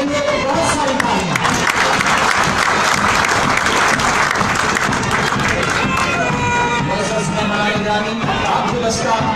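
An audience at a Frontier Constabulary centre programme claps in loud, sustained applause, with crowd voices mixed into the dense clapping from start to finish.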